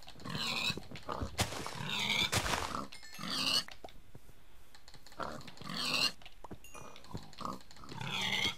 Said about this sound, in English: Sorry, pigs, but there's just too much of you.